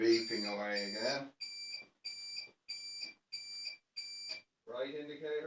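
A person talks, then a steady series of five even electronic beeps from a BMW E39 electric conversion's tow bar indicator electrics follows before speech returns over fainter beeping.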